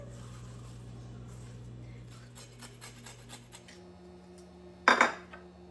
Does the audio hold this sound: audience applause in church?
no